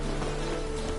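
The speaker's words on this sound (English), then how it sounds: "Long as I'm not at sea, let it rain." Steady rain in The Witcher 3: Wild Hunt, a dense, even hiss of drops on surfaces with a low hum underneath, continuous and unbroken.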